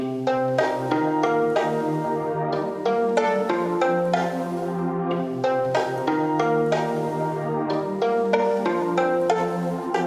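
A violin-like synth preset from Analog Lab, resampled to audio, plays a melodic line of distinct sustained notes with rich harmonics, steady and prominent throughout, with no talking.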